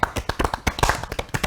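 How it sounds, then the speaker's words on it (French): Classroom applause breaks out to reward a student's good answer. Several hands clap in quick, uneven, overlapping rhythm, loud and close, with no talk over it. "On n'a qu'à applaudir pour elle"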